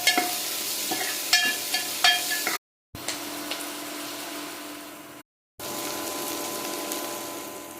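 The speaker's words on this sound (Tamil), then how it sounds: "வெங்காயம் பச்சை மிளகாய் வந்து ரொம்ப வதங்கக்கூடாது. பாதி அளவு வதங்கினா போதும்." Onion and green chilli sauté with curry leaves in a pan, a steady close sizzle broken by rhythmic spatula scrapes and taps against the metal, interrupted by two brief silent gaps.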